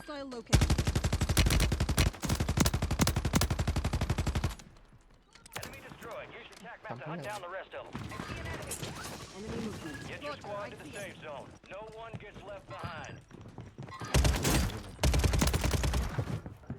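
Rapid bursts of automatic gunfire from a Warzone match, loud and dense, crack out at the start and again near the end. A quieter stretch of game sounds and talk fills the middle.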